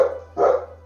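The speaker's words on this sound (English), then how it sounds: "Pardon my dogs, guys." Several household dogs bark indoors, a short burst of close barking that swells to a louder peak midway and trails off, with a steady low hum underneath.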